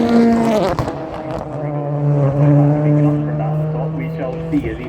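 A rally car at speed through an S-bend at the top of a hill, all four wheels spinning, gives a loud sustained engine drone that rises and falls under a commentator's voice.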